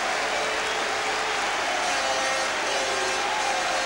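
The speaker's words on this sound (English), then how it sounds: "So applause, as you can see," Crowd of Crystal Palace fans behind the goal at a football match against Blackburn Rovers applauds their goalkeeper after a save, a steady dense wash of clapping and crowd noise with no pauses.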